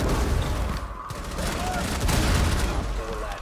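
Gunfire in Rainbow Six Siege, a loud dense burst of shots with booming low end filling the whole short stretch, close and harsh, with a voice faintly mixed in.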